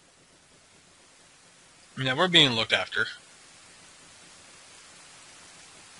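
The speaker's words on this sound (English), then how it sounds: "And here comes the rain." Steady, even rainfall in the video game The Legend of Zelda: Ocarina of Time, a constant soft hiss throughout, with someone speaking briefly over it partway through.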